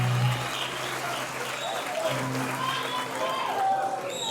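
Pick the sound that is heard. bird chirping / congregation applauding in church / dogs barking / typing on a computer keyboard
congregation applauding in church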